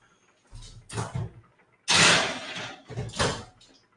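An oven door thumps shut as a tray of vegan blender muffins goes in, a few clattering handling noises before and after one louder close, near and alone with no talk.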